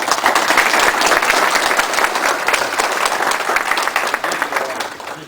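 Masonic lodge members applaud a past worshipful master at an installation ceremony: loud, dense clapping fills the room continuously, then begins to thin toward the end.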